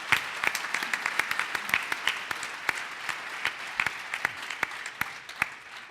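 An audience at a late-night talk show applauds, with a dense, steady wash of clapping close by and sharp individual claps standing out throughout.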